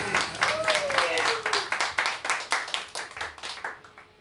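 Applause from a group at a tribute band performance, dense clapping that swells and then thins into separate claps, with a voice speaking briefly over the start.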